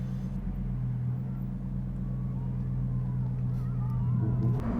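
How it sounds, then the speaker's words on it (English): A Lamborghini Huracan Tecnica engine drones steadily from start to finish at a constant mid-level loudness, with a few rising tones near the end that suggest building revs. "they need to hear these engines scream"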